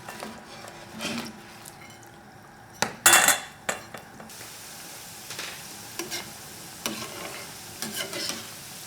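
Yakgwa, Korean honey cookies, frying in hot oil at around 330 to 350 degrees while being stirred, with a low steady sizzle broken by scattered utensil scrapes and a cluster of sharper clinks near the middle.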